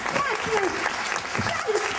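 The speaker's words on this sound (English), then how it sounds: "Give him a round of applause!" A round of applause breaks out at a children's treasure-hunt game, quick dense clapping heard under a voice talking over it throughout.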